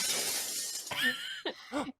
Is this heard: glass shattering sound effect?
yes